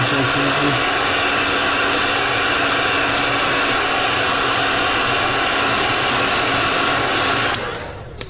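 Loud, steady whoosh of a heat gun blowing close by as it heat-sets airbrushed paint on a pike crankbait lure, then cutting off near the end.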